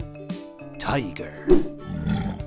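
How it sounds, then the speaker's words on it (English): A cartoon tiger in a children's animal-alphabet lesson gives a rough, mid-pitched roar that swells and peaks midway, mixed with a voice and backing music. "Tiger."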